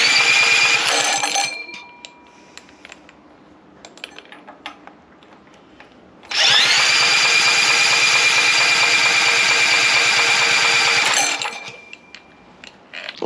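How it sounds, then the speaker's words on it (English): Small engine with the choke on and the spark plug removed, cranked over in two long bursts: loud, steady mechanical whirring broken by a quieter gap with scattered clicks and rattles. "let's try and crank it over with the choke on, see if we can get any gas when the spark plug's still out"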